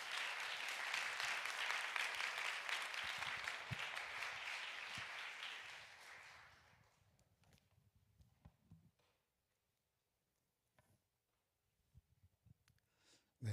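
A church congregation welcomes the preacher at a Korean youth Sunday service with loud, dense applause that holds for about six seconds and then fades. Faint room noise, footsteps and a few scattered knocks follow in near silence.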